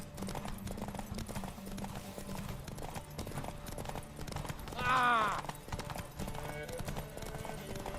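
Roach, the horse in The Witcher 3, gallops with a steady clip-clop of hooves and lets out a whinny midway, while someone talks over the hoofbeats.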